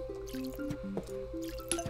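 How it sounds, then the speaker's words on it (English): Watering plants in the Plants vs. Zombies video game garden produces squishy, dripping water effects that repeat steadily across the clip over a constant tonal game-music bed. "But first, let's water our garden."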